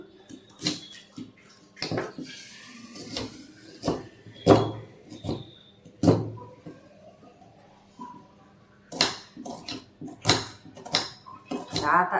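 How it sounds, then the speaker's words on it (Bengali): Onions being cut with a knife in a home kitchen while an egg curry is prepared, sharp irregular taps and knocks spaced through the clip with no talking. "কেটে নিচ্ছি পেঁয়াজগুলো।"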